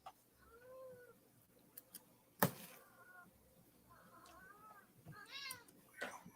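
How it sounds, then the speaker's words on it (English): Cats meow softly several times at a distance, with a sharp knock or click partway through, against a quiet room background. "My cats are stinkers."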